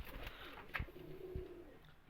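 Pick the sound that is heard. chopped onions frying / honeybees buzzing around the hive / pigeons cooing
pigeons cooing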